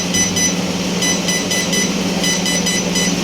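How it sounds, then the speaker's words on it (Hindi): An oven timer alarm rings after chicken cooks for a pizza chicken recipe, a loud repeated electronic beeping in regular pulses over a steady appliance hum. "ले जी, अलार्म बज गया।"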